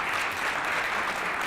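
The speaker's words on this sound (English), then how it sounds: "Give him another round of applause." Short burst of audience applause at a restorative justice summit, dense even clapping from a crowd, steady and moderately loud with no voices over it.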